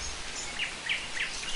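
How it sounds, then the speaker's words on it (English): Birds chirp in short, bright bursts during a steady rain outdoors, with wild dogs sheltering under a bush nearby; three or four quick calls stand out faintly over the constant hiss of falling rain. "it seems to be the harder it rains, the more chirpy the birds get."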